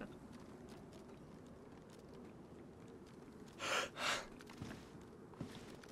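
Two loud, close breaths in the DayZ survival game, a sharp gasp then a second heavy exhale just after, standing out over a low ambient rumble, with a few faint clicks following.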